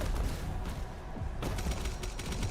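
A combat shotgun blasting in the game Doom: The Dark Ages, fitted with damage buff, triple shot and incendiary rounds: a busy run of loud, overlapping gunfire bursts and thumps, with no talk.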